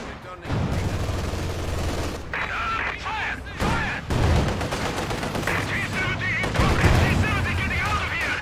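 Gunfire and explosions from a Company of Heroes 2 battle between Wehrmacht and Soviet forces, with repeated shots and bursts over a busy mix, while game voice lines and unit chatter talk throughout.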